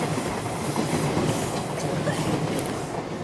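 A train rolling past in a film scene, a dense continuous rumble of wheels and carriages with faint clickety-clack, loud and close throughout.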